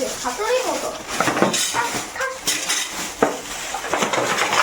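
Spoons and forks clink and rattle as they are cleared from dining tables after a meal, with a steady run of clattering metal close by and people talking throughout.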